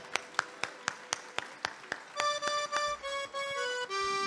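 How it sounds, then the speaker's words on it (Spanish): Audience at an evening event in Lucas González claps for the mayor: sharp separate claps at first, then a steady clap swell overlaid by loud sustained musical tones. "el aplauso fuerte para la intendente"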